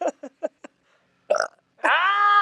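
A loud, drawn-out burp after chugging champagne, preceded by several short gulping or hiccup-like bursts and a brief rough noise, the final belch sustained and strongly tonal until the end.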